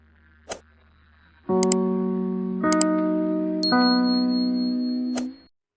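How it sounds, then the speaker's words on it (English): The NBC radio three-note chimes: three sustained electronic notes ring in sequence, each holding and overlapping, preceded by a faint tap and ending with a short tone. "3 chimes mean good times on NBC."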